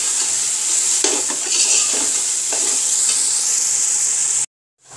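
Two large tomatoes fry in a pan for yakhni pulao, giving a loud, steady sizzle. A spoon scrapes through them in repeated stirring strokes before the sound cuts off abruptly, with no voices.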